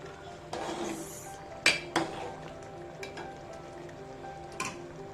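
A pot of prawn masala with kokum agal is stirred, a spoon scraping and clinking against the metal in a few separate knocks over a faint simmer, close and fairly quiet.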